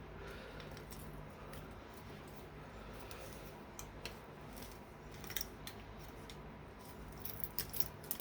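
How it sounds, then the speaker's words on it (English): Repeated small snips and clicks of scissors trimming mesh, irregular and close by, growing busier toward the end over a faint background hiss. "I'm just going to trim this off with a pair of scissors"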